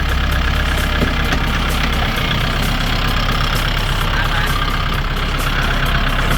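A used Kubota L5018NT Limited tractor runs with its PTO engaged, giving a loud, steady diesel drone with a deep low rumble that holds unbroken throughout.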